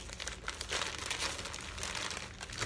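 Plastic mail packaging crinkles and crackles continuously as it is pulled open by hand, close and fairly quiet, with no talking.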